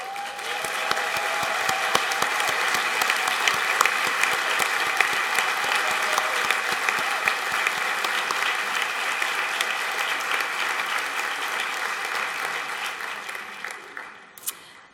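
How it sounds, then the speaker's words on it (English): A large luncheon audience at a library association event applauds authors and illustrators, sustained dense clapping filling a big room for about fourteen seconds before tapering off at the end. "Will all the authors and illustrators please stand for a round of applause?"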